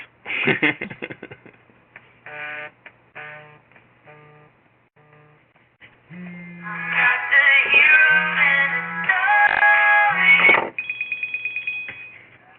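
A phone rings during a webinar, with a loud, repeating melodic ringtone that builds in bursts and grows fuller and louder toward the end before a final sustained tone.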